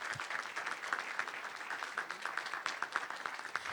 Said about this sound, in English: let's please give Marion a hand clap